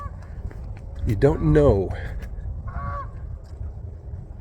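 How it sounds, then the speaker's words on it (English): A goose honks a few times in a quick cluster along a riverside hiking trail in cold weather, followed by a fainter honk. Someone speaks briefly nearby. "Okay, goose."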